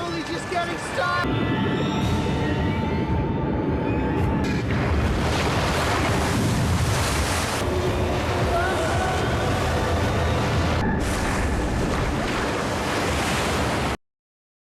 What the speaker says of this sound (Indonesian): Mereka mencari dari mana asal suara deru ombak.